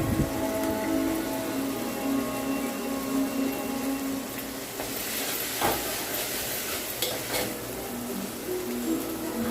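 Curry leaves drop into hot oil for a village-style drumstick and chana dal curry, and a steady crackling sizzle fills the pan, with sharper spits and bursts of hiss rising partway through.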